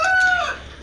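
A brief crow from a rooster at a farm pasture, close and fairly loud, with no talking.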